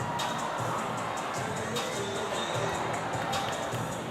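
Crowd of Falcon fans cheering and murmuring in a gym during a high school slam dunk and three-point shooting competition in Los Fresnos, a steady dense roar with scattered shouts and an announcer talking over it.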